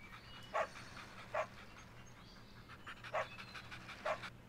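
Dog barks repeat in the Philips CD-i game Wacky World of Miniature Golf: four short, evenly spaced yaps sit over a steady low background hum at moderate volume.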